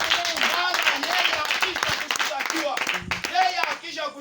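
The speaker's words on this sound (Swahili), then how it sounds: "Pigia Yesu makofi." A church congregation claps in praise during a sermon, a rapid patter of hands under a preacher's loud voice and crowd noise, the clapping mixed with and partly masked by the talk.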